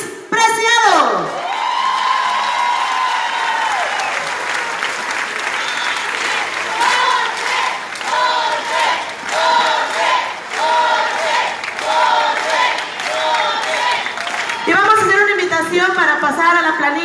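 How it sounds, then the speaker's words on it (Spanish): Crowd at a campaign closing rally applauds and cheers to welcome a senator, loud continuous clapping with whoops and shouts, while a voice talks over the crowd and music plays underneath. "pido un fuerte aplauso para recibir al senador Jorge Luis Preciado"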